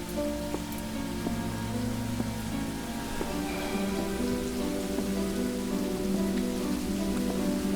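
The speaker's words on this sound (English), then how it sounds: "It's raining now." Steady rain in a horror video game patters continuously on a surface, soft and even, with a faint low hum underneath and no voices.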